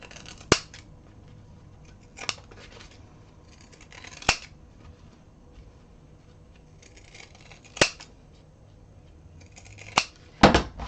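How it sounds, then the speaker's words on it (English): Pinking shears snipping fabric around the curves of a pouch, sharp isolated cuts spaced a second or two apart, close and quiet in a still room. "now I'm going to take my pinking shears and I am going to trim around mainly the curves"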